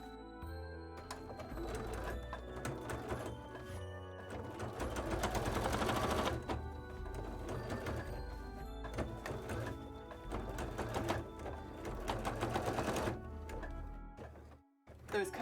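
A sewing machine stitches a fabric visor in long, fast mechanical runs, with rhythmic chattering that speeds up and pauses briefly, close and fairly loud.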